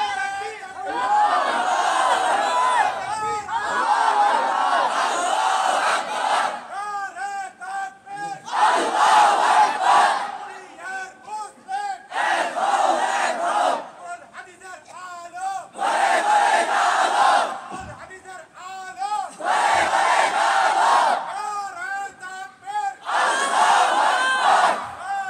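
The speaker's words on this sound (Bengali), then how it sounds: "একটু তাকবীর দেন তো দেখি" A mosque congregation at a religious sermon gathering in Bandar thana shouts the takbir chant, Allahu Akbar, in repeated loud massed bursts of many voices, alternating with brief pauses across the stretch.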